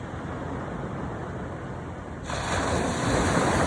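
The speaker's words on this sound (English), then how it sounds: "there's a wave coming" Ocean waves breaking on the beach at Ocean City, New Jersey, a continuous rushing surf that swells louder partway through as a wave rolls in, with some wind noise.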